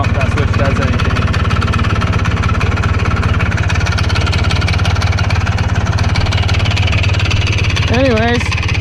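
A two-stroke dune buggy engine runs loud and close with a steady, buzzy, rapid-firing drone throughout, and a brief voice is heard near the end.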